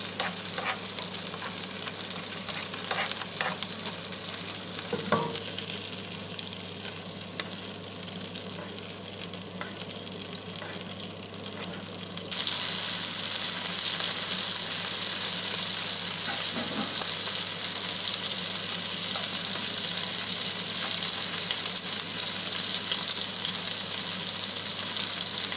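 A snapper fillet sizzles skin-side down in a hot pan, with a steady close hiss and occasional spoon taps that swell into louder, brighter frying as the oil is basted over the skin.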